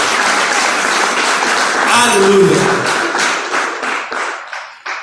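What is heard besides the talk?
congregation applauding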